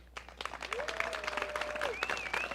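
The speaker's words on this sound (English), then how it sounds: "please stand up and let's give you a round of applause" Steady applause from a church congregation at an Easter Sunday service, dense clapping with some cheering and a whistle-like tone rising over it.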